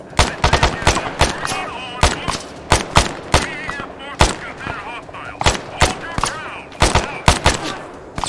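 Gunfire in the combat game Arma 3 crackles in rapid bursts of sharp, loud shots, with voices talking over the firefight.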